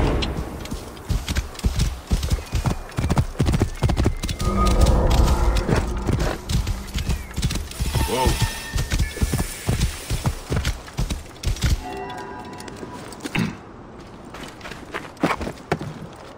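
Horse hooves clop and gallop in Assassin's Creed Origins with a rapid, driving rhythm that speeds up and slows down, and occasional snorts and gear rattles come through.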